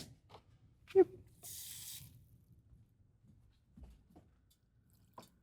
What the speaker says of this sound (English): I'm going to add just a couple drops of water from here